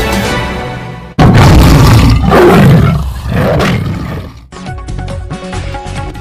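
A loud, deep lion roar sound effect bursts in abruptly and rumbles for about three seconds before fading, followed by a short musical sting in a channel intro.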